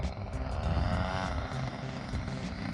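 Hanger 9 Tiger 30cc RC airplane flying with its gas engine dialed in, a smooth continuous propeller drone at moderate distance that swells slightly as the plane passes, with no one talking.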